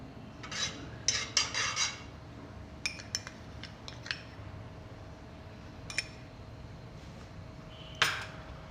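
Metal spoon scraping and tapping against a pot while pure ghee is spread over the bottom for biryani, several short clinks and scrapes in bursts, close and fairly quiet, with no talking.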